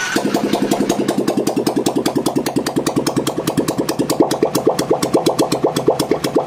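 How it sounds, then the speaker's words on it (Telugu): Rebuilt motorcycle engine after a full overhaul and rebore, idling close by with a steady, fast, evenly pulsing beat and crisp repeated exhaust thumps, no talking. "ఒకసారి ఫైనల్గా ఇంజిన్ అవుట్పుట్ కాదు ఇంజిన్ బీటింగ్ అదేనండి"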